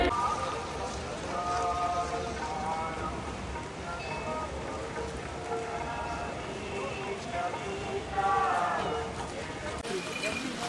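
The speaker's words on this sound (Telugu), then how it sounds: "అలాగే వర్షం విపరీతంగా ఉంది." Heavy rain falls at Kedarnath as a steady, dense patter on surfaces under a crowd's murmur and voices, with occasional hoof-like clopping and movement nearby.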